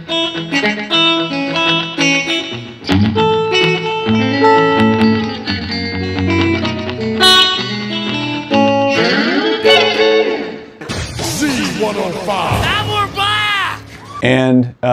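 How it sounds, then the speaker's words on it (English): An electric Telecaster guitar plays clean with a little reverb and slapback echo, strummed chords and melodic lines ringing out loudly and continuously with no talking. "I've got it clean, got a little bit of reverb, but I definitely have that sort of slapback echo going on."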